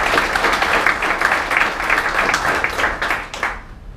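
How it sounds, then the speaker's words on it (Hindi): Seminar audience in Mumbai giving a hearty round of applause, dense clapping that stays loud for about three seconds and then tapers off quickly. "इनके लिए जोरदार तालियां बजाएं"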